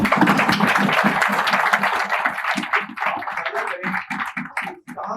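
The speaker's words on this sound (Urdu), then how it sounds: "اس پہ تالیاں بجتی ہیں" An audience at a motivational talk breaks into hearty clapping, dense at first and then thinning into scattered, distinct claps over about five seconds.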